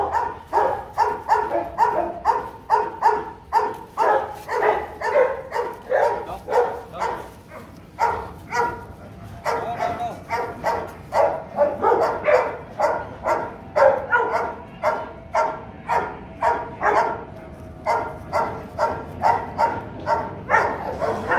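A large, tall-framed dog barks repeatedly in a steady rhythm for the whole stretch, loud and close, with brief pauses between bursts of barking.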